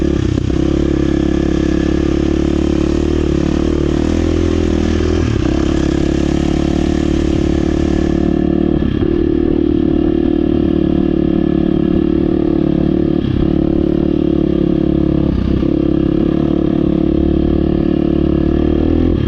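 A 2023 KTM 350 XCF dirt bike engine while riding, a loud continuous four-stroke drone that rises and dips slightly with throttle, close up and heavy on rumble, with no voices.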